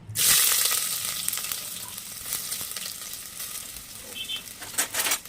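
Chopped onion drops into three spoonfuls of hot oil and erupts into a loud, close sizzle that settles into a steady crackling fry, broken near the end by a few stirring scrapes.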